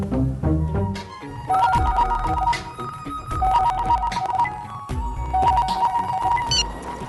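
A telephone ringtone plays loud and close, a repeating melodic electronic phrase cycling several times with no voices over it.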